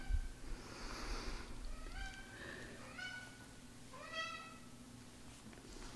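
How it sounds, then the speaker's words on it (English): A cat meows several times in a row, drawn-out and slightly plaintive, fairly faint against quiet room noise. "And we have little Titi meowing away"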